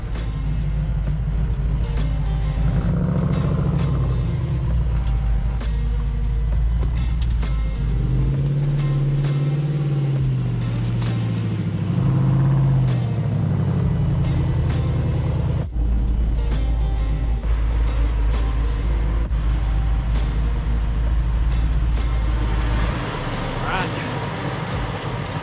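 A truck engine rumbles steadily throughout, with low droning and shifting revs, while a voice talks over it intermittently, on sand before towing a stuck vehicle out with a rope.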